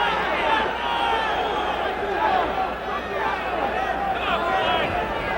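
Steady, enthusiastic crowd noise fills a boxing arena during the fourth round of a Ray Leonard versus Floyd Mayweather fight, a continuous swell of cheering and babble with a commentator's voice layered on top.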